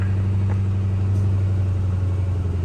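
An old car's engine idles steadily right after starting, a loud, close, even low rumble with no other sounds and no talk.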